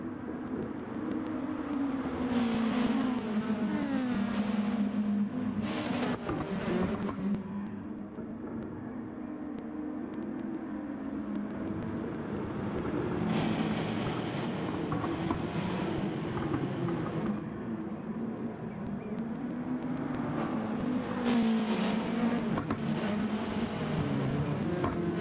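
Touring race cars at the Dragon Trail circuit in Track Stars circle behind a safety car, their engines droning steadily and swelling as they pass, with no talk over them.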